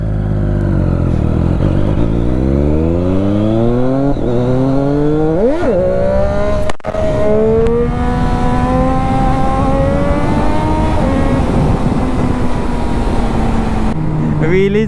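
A Triumph Daytona 675 sport motorcycle on an empty highway, its engine loud and close as it revs and climbs steadily through rising pitch, with a brief sharp dip midway before pulling on, continuous throughout.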